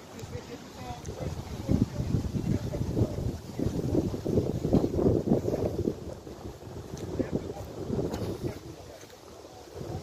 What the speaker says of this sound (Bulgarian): Вятър доста.